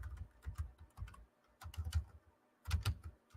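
Typing on a computer keyboard in short bursts of quick, close key clicks broken by brief pauses, with no talk over it.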